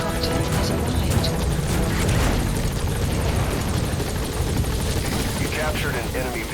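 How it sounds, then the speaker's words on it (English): Support helicopter in Metal Gear Solid V arriving at a landing zone, loud close rotor thumping and engine roar filling the scene, with a voice speaking over it. "Support helicopter has arrived."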